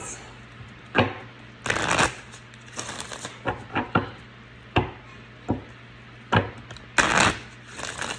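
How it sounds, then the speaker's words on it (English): A deck of cards being shuffled close up: repeated riffling bursts and sharp taps at irregular intervals, with no talking. "I feel like I got to shuffle again."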